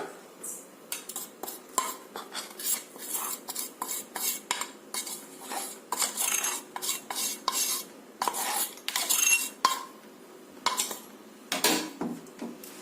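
Wheat flour and powdered sugar mixed by hand in a kadai for wheat biscuits, with a spoon repeatedly scraping and clinking on the metal pan in quick, irregular strokes, close and fairly quiet.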